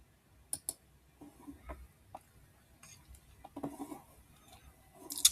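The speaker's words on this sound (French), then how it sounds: "Si je clique ici, comme ça va m'amener pour pouvoir faire l'achat." A computer mouse gives a few quiet, crisp clicks spaced irregularly, with a couple of close double taps and a slightly louder click at the end, faint against a hushed room.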